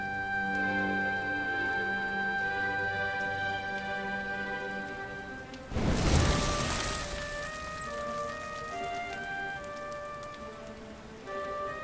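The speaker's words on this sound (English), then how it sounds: "Looks like the rain's dying" Steady rain falls in the video game Dragon Quest XI under soft sustained music, with a brief louder burst of noise midway before the patter continues, fairly quiet overall.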